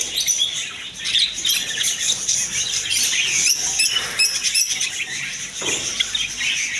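Java sparrows and budgerigars chirp continuously from cages at a bird shop in a bazaar, a dense, busy chorus of high twittering calls close by with no talking.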